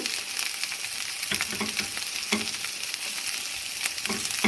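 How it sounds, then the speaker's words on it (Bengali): Carrot and capsicum frying with chicken in a pan, a steady close sizzle with intermittent stirring scrapes over about four seconds, no talk. "এখন আমি এখানে একটু গাজর আর ক্যাপসিকামটা এর সাথে ভেজে নেব"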